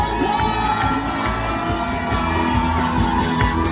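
An outdoor open-air concert audience at Mokwon University cheers and shouts, a dense, continuous crowd roar with scattered whoops and rhythmic clapping throughout.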